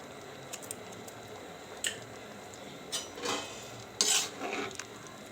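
Mushroom biryani rice is gently mixed in a pot, with soft intermittent scrapes and light clinks of a spoon against metal, faint and close, with a few louder stirs near the end.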